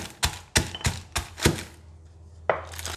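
Pestle pounds in a mortar in a series of sharp, hollow thuds, about five in quick uneven rhythm, then a pause and one more strike, close and fairly quiet.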